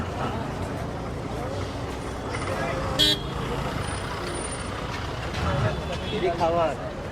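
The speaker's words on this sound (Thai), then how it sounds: "มาอินเดียคุณก็ต้องเจอ เสียงแตรแบบนี้ฮะ" Car horns toot now and then amid steady street traffic rumble near CSMT in Mumbai, India, with people talking nearby.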